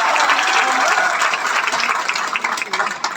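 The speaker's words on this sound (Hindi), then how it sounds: "मैं चाहूंगा एक बार जोरदार तालियां आप तीनों ही लोगों के लिए।" A room full of people claps loudly at a Vestige CNT business presentation, a dense, vigorous round of applause that starts strong and gradually breaks into looser, more scattered claps.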